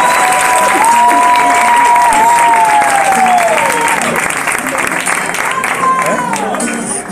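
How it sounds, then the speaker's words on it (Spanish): Audience applause at an acoustic concert, loud and sustained for the whole stretch, with a sung or spoken voice carrying over the clapping. "Un aplauso para Johnny"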